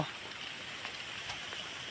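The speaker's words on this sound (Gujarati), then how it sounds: "વરસાદ આવી ગયો" Soft, steady rain patters in a constant hiss over a farm field, fairly distant and quiet, with no voices.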